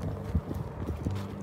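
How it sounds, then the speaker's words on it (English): Horses being gathered on a ranch walk nearby, their hooves clip-clopping in a loose, uneven rhythm against a low background rumble. "just gathering up some horses"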